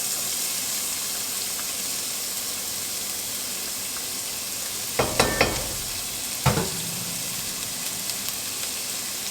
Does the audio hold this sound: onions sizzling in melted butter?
yes